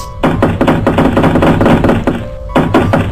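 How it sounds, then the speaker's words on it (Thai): Someone knocks on a door in a fast, loud run of repeated knocks, pauses briefly, then resumes with another quick burst. "เราต้องเคาะเราต้องเคาะประตูนะ"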